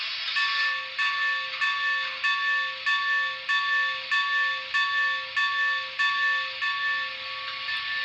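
A Broadway Limited brass UP 4-12-2 model steam locomotive's bell rings in a steady, even rhythm, about a dozen clangs over a continuous electronic hiss, close and clear.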